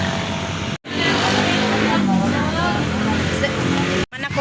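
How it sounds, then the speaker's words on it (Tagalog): Busy afternoon road traffic near a small market in San Jose, a steady loud roar of passing cars and motorbikes with engines revving, broken by two brief gaps, and voices talking faintly underneath. "Traffic ini dire basta hapon."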